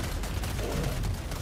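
An autocannon sentry in Helldivers 2 fires a dense, rapid burst of heavy gunfire, loud and continuous for the whole moment, with a battle din behind it.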